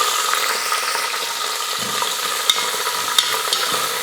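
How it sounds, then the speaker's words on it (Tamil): Green peas and grated carrot stir-fry in oil for pongal, a loud steady sizzle broken by a couple of sharp spatula taps against the pan. "எல்லாம் சேர்த்து எண்ணெயில் நல்லா வதக்கிக்கலாம்"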